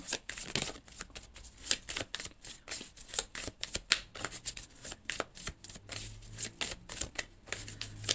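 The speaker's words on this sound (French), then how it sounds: "Allez, Sagittaire, coupe triangulaire pour novembre." Tarot cards are shuffled close up in a quiet room, a run of soft riffling slaps and taps that repeat in an uneven rhythm.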